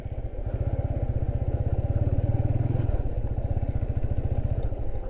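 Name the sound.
motorcycle riding on a village road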